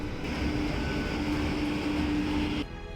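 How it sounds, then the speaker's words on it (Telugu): Loud rumbling of the Garib Rath Express arriving at Gudur station, with a steady whine, continuous throughout before dropping off sharply at the end. "ఉదయం ఎనిమిది గంటలకు గరీబ్ రథ్ ఎక్స్ప్రెస్ గూడూరుకు వస్తుంది సో ఫైనల్గా రానే వచ్చింది"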